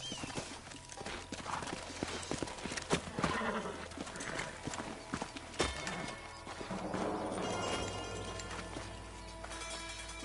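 Horses' hooves clip-clop in the Red Dead Redemption video game, a busy run of close hoofbeats on the ground with a low rumble building toward the end, and no clear talk.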